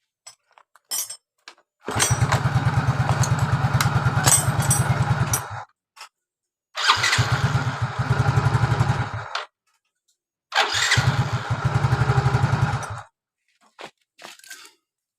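A Yamaha Mio GT scooter engine is kick-started repeatedly: three bursts of close, loud running, each a few seconds long, separated by silent gaps with brief clunks of the kick lever, after starter repairs.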